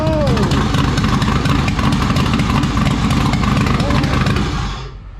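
A Pontiac Fiero's supercharged 3.8-litre engine runs on E85 fuel while spraying fuel, a loud, rough, close idle that drops away at the end, with people talking over it.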